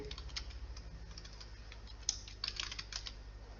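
A name is typed into MS Word on a computer keyboard: quick, light keystrokes tapping in an uneven run, close but faint, with no one speaking.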